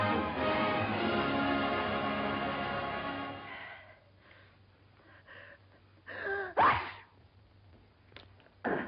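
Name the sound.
sneeze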